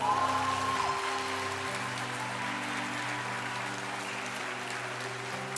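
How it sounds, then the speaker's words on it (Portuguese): Church congregation applauding in a worship service, a steady wash of clapping spread across the room with sustained organ or keyboard tones underneath. "Agora você pode aplaudir o nome do Senhor."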